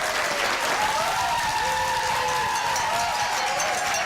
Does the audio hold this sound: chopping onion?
no